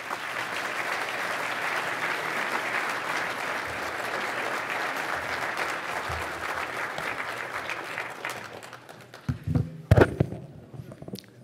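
Sustained applause from a lecture audience at Hillsdale welcoming Dr. Charles Rubin, a dense steady clapping that thins into scattered claps and a few louder thumps before fading out near the end.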